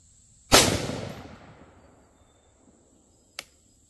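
Rifle shot firing New Republic 5.56 SS109 ammunition, one sharp loud report whose echo rings away over about a second and a half, followed by a faint short click a few seconds later.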